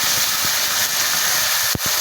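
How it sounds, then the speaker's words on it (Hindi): Water poured into a hot pan while cooking dhaba style dal chawal, giving a loud, steady, close hiss of steam with a couple of brief clunks. "थोड़ा सा पानी डालते हैं"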